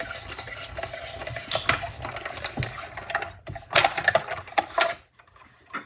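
A hand-cranked die-cutting machine feeds paper through with a steady grinding, rolling sound, broken by clicks and clunks from the mechanism and ending with a pause and a few handling noises, close up with no talking.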